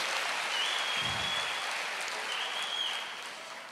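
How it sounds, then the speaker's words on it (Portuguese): A church congregation at a conference claps in praise during a sermon. The applause is a steady, distant wash across the whole stretch and fades slightly at the end, with no clear voices on top. "Aplauda ao Senhor, glorifique a Deus."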